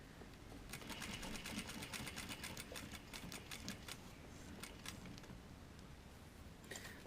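A domestic sewing machine stitches a jacket collar edge in a steady, rapid run of needle clatter, fairly faint and alone, with a short pause before a final burst of stitches.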